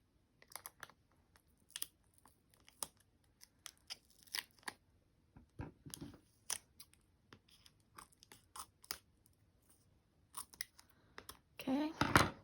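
Scissors snip through paper while trimming a 2019 journal cover: a close series of short, crisp cuts at an irregular rhythm, ending in a denser burst of rustling snips.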